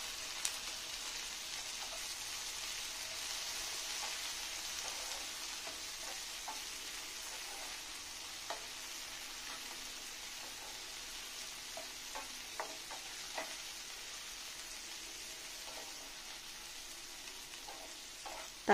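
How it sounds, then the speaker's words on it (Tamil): Tomato sautéing with garlic in a pan for a country chicken chili curry gives a steady, moderate frying sizzle, with scattered small ticks and pops from stirring throughout, and no talking. "தக்காளி இருக்கிற பச்சை வாசனை போகிற வரைக்கும் நல்லா வணக்கி விட்டுக்கோங்க"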